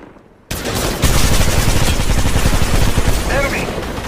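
Sustained enemy automatic gunfire in Apex Legends Mobile erupts after a brief quiet moment, loud and dense with rattling repeated shots that keep up to the end.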